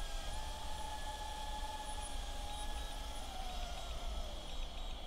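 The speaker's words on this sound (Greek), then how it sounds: "Εδώ τώρα πετάει κανονικά όπως πετάνε όλα τα drone, καμία διαφορά." A DJI Avata 2 drone flies and then lands, giving a steady high-pitched whirring buzz of spinning propellers, with tones that hold and slowly drift lower, continuous for several seconds without talk.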